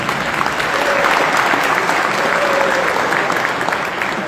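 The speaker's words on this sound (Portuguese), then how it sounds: "Palmas para vocês, inclusive." A large audience at a conservative talk in Arapiraca claps in a dense, sustained round of applause that stays loud and even throughout.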